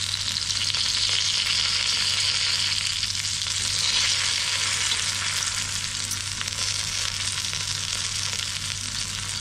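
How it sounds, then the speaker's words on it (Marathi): Drumstick pods (moringa) fry in a pan until crispy, giving a loud, steady, continuous sizzle of hot oil throughout, with no talking. "आता याला आपण व्यवस्थित फ्राय करून घ्यायचं आहे असे कुरकुरीत होईपर्यंत."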